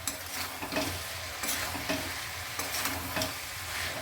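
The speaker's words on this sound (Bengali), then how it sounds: "এবার আমি ব্রোকলিগুলো দিয়ে দেবো। দিয়ে জাস্ট 2-3 মিনিট হালকাভাবে আমি কষিয়ে নেবো" Broccoli stir-fries with spice paste in a pan, a steady close sizzle and frying hiss broken by repeated stirring scrapes, with no voices.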